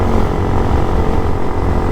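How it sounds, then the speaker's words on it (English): A Hawk DLX 250 motorcycle with a loud exhaust drones steadily and close by for the whole stretch, a dense low engine rumble with no pauses and no voices. "The DLX exhaust is loud."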